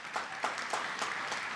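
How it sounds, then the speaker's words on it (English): Crowd applause at the Monmouth College 2017 commencement ceremony: a steady wash of many people clapping together, moderately loud and continuous, with no voices over it. "Big round of applause for all the folks who were the first ones"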